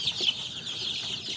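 A crowd of chicks raised at home peeps in a steady, dense high chorus, close and continuous, with no talking.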